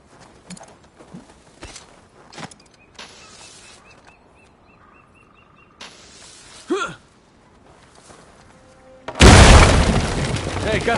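A dynamite charge blasts a door open in the Uncharted 4 video game, a loud broadband explosion erupting near the end after quieter game sounds and brief voices.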